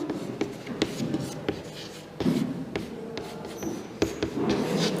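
Pen or marker strokes write a chemistry formula during a lesson, with quick repeated scratches and taps in uneven bursts across the whole stretch. No one speaks.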